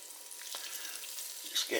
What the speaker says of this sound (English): Just get the oil sizzling,